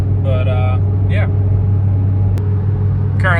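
A Volkswagen Golf R cruises along, its engine and road noise a steady low rumble from inside the cabin, with a few brief squeaks over it.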